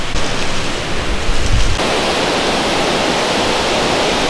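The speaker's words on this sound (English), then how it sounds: "Behind me is the Wentworth Fall." Wentworth Falls, a large waterfall in the Blue Mountains, gives a steady, loud, broadband rushing roar that continues unbroken, with a brief louder gust early on.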